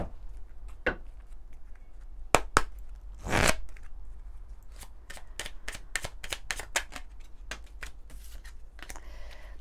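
An angel oracle card deck being shuffled, with crisp riffling bursts and brief card snaps spread unevenly across the clip, including one longer, denser flurry partway through, close and fairly quiet with no talking.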